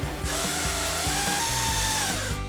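A tool working on the headlight bolts of a 2015-2023 Dodge Charger, a close, steady high-pitched whine with rapid rhythmic clicking throughout, loud and uninterrupted for a couple of seconds.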